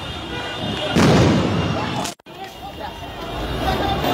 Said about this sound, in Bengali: আরো একটি সাউন্ড গ্রেনেড ছোড়া হয়েছে ঢাকা কলেজের দিকে